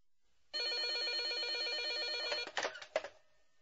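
A telephone rings in a Chinese police radio drama, a loud trilling electronic bell repeating steadily for about two seconds, then cut off by clattering handset pickup sounds.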